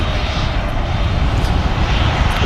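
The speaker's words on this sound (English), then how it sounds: "the bass was huge from the Airliners 330" Airbus A330 airliner jet engines at Manchester Airport, a loud steady deep rumble with heavy bass filling the whole stretch without a break.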